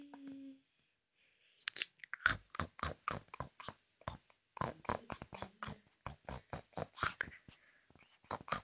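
A turtle chews and bites, making a rapid run of close, crisp crunching clicks in quick bursts with short pauses, fairly faint, after a brief quiet voice at the start.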